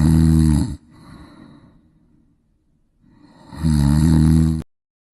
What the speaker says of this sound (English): The snore of the week.